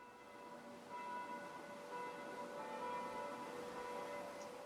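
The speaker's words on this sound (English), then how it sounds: "It had the most amazing set of bells, and they were playing the bells while I was there." A full set of church bells in Germany rings on and on, with sustained tones that overlap and are heard from a distance at a faint level, with no talk.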